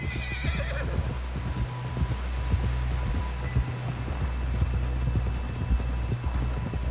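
A horse's hooves gallop in Red Dead Redemption 2 in a rapid, continuous clip-clop beneath a low droning hum, with the horse snorting and whinnying, and no talk.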